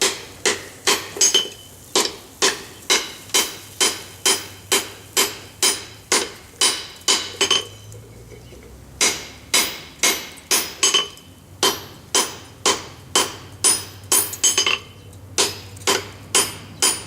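A hammer strikes hot steel during forge welding at a steady quick rhythm, loud ringing close blows with two brief pauses before the pounding resumes.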